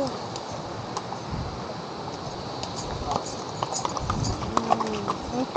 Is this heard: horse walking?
yes